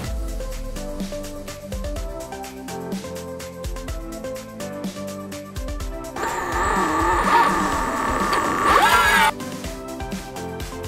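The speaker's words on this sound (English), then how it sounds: "The power of the motor wasn't really stalling, but the wheel just kept slipping." An electric skateboard's single-motor drive strains on a 30% hill in Portland as the wheel keeps slipping. A rising whine and rough scrubbing noise surge for about three seconds, with music playing throughout.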